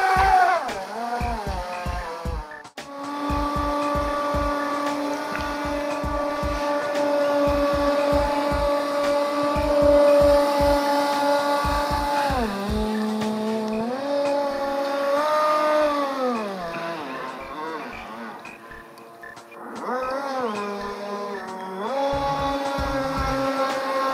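An AERO-NAUT Multi-Jet-Boat RC model boat runs at full throttle, its motor whining loudly and steadily, with the pitch dipping and climbing as it turns, and rhythmic low thumps as the hull slaps the water.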